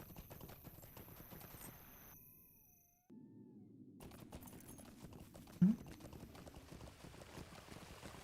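Horse hooves clip-clop at a walk in Lord of the Rings Online, a steady in-game rhythm under music and ambience, with a short break partway through.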